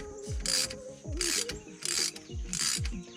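A ratchet wrench loosens a differential case bolt on a Dodge Charger Scat Pack during a diff brace install, giving four quick bursts of rapid clicking at a steady rhythm, close and fairly loud.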